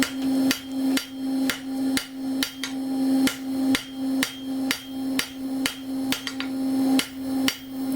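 Steady, evenly paced hammer blows ring out on stainless steel being shaped into a spoon over the rounded end of an anvil, about two strikes per second, close and loud, each hit leaving a bright metallic ring.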